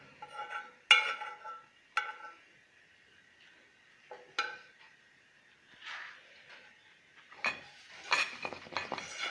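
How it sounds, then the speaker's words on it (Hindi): Metal utensils clink and scrape against a pudding pan as caramel goes in, with sharp taps spread unevenly through the clip and a cluster of quicker clatters near the end. The sounds are faint and close, with no talk. "ये मैं उस बर्तन में डाल रही हूँ जिसमें मैंने पुडिंग बनानी है।"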